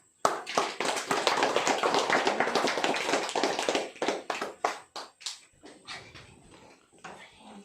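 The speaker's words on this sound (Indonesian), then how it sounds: "Kita memberikan aplaus baginya" A church congregation applauds after a child's baptism, a burst of many hands clapping at once that stays full for about four seconds, then breaks into thinner, uneven clusters of claps that gradually fade out.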